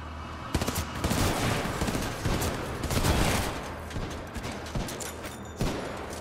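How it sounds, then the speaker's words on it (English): Rapid bursts of gunfire from a burst-fire assault rifle in the video game Titanfall 2, loud repeated fusillades packed closely together across the whole moment. "I don't know what the hemlock is. Burst assault rifle? I'm alright with it."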